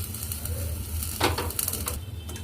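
Chana dal, urad dal, dried red chillies, mustard, cumin and fenugreek seeds sizzle in hot oil as a tempering for drumstick-leaf chutney: a steady close hiss with brief scraping and clinking as the pan is stirred.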